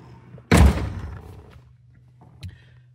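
A DeLorean car door, on a car undergoing an EV conversion, unlatches and swings open with one loud close thunk, followed by a faint mechanical creak and a small later click in a quiet garage.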